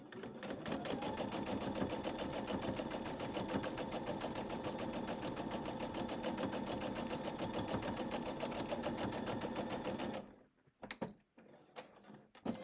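A sewing machine stitches together strip, crumb and shred quilt blocks, a fast steady mechanical whir with rapid regular needle clatter running for about ten seconds before stopping, followed by a few faint handling clicks.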